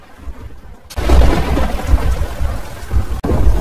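Thunderstorm with heavy rain in a cartoon: a quiet patch breaks into a loud, steady roar of downpour with rumbling thunder, and a brief cut near the end before the rain resumes.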